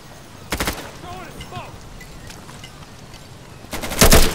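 Gunfire in the video game Insurgency comes as two loud, sharp bursts, one early and one near the end. Voices talk briefly between the shots.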